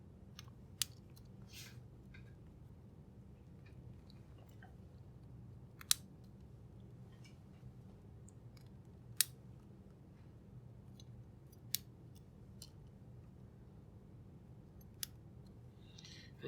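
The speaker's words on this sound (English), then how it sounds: "So first thing I want to do here is put some switches into the corners." Mechanical keyboard switches snap into the plate of an Iris Rev. 5 split keyboard, heard as sparse, sharp, quiet clicks spaced several seconds apart over a faint room hush.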